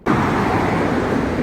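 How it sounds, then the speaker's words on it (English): Steady road traffic noise near a storage unit, a loud continuous roar and rush of passing vehicles that starts abruptly and holds at an even level, with no voices. "Sorry for the road noise."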